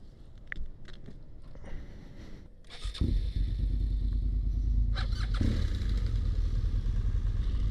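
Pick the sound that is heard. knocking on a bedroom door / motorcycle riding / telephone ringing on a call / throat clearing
motorcycle riding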